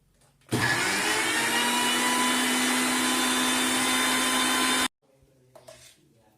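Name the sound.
mixer grinder blending milkshake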